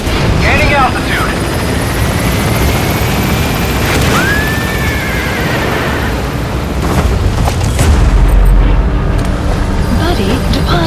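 A helicopter in the video game Metal Gear Solid V: The Phantom Pain thrums loudly and steadily throughout, mixed with game effects and a whooshing sweep, while a radio voice talks over it.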